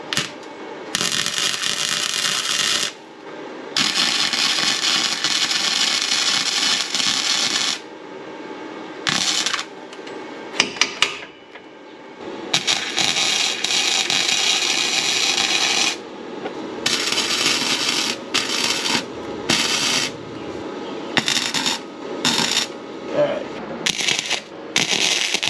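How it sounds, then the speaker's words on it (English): MIG welding on the exhaust pipe of a 1955 Buick Special, a harsh crackling buzz in long bursts separated by short pauses, close up, with people talking intermittently. "I'm blind welding right now."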